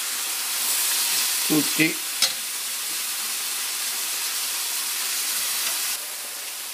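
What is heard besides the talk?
friarielli sizzling and being stirred in a frying pan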